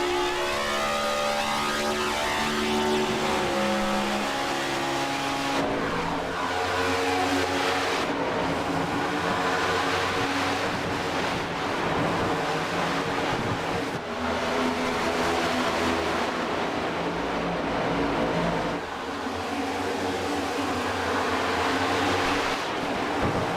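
Stock race cars battling for the lead at Kansas Speedway, a continuous loud roar of engines with passing cars rising and falling in pitch over a steady crowd-and-track wash.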